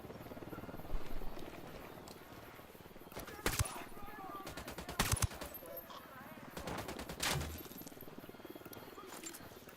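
Automatic gunfire in Ghost Recon Wildlands, heard as distant, fairly quiet bursts with a few sharper reports, set against a low rumble.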